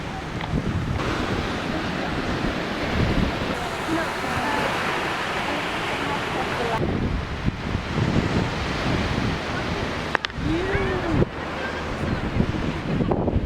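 Heavy ocean waves and surf crash onto a beach in Africa in a steady, loud roar with wind buffeting the microphone, and a few voices speak faintly beneath the noise.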